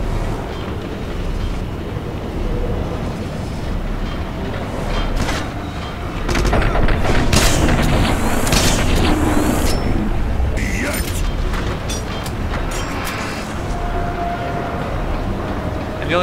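Rocket explosions and heavy booms from a boss fight in Wolfenstein (2009) roll through a loud, dense battle din, with several sharp crashes in the middle amid mechanical rumble.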